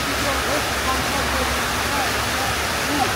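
A park waterfall in Tashkent, Uzbekistan, pours in a steady, broad rush of falling water, close and continuous, with a voice faintly heard over it.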